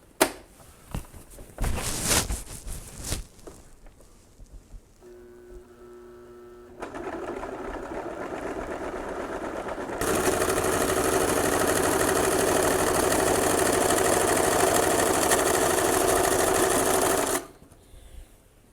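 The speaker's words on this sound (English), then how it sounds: "So we're going to do it again because I want to double stitch" A sewing machine double-stitches a pillow, starting after some handling clatter, then running steady in a rising mechanical whir that speeds up for a long loud stretch before stopping abruptly; no voices.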